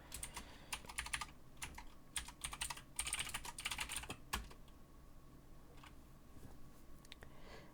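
Rapid clicking keystrokes on a computer keyboard, typed in bursts with brief pauses and then slowing to sparse single taps, close and clear with no talking.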